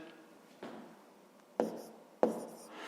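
Pen strokes scratch on paper while numbers are written out for a long division problem, a few soft, brief marks close by in a quiet room.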